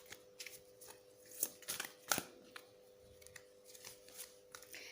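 Tarot cards being shuffled and pulled, giving a run of soft papery riffles and flicks with a few sharper snaps, close by and fairly quiet, with no talking.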